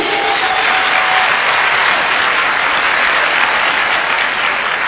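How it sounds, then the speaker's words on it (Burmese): Steady, dense applause from a concert audience at a show by a singer and her musicians, continuous and loud for the whole stretch with no voices over it. "လက်ခုပ်တန်းလေးကြားပါရစေရှင်"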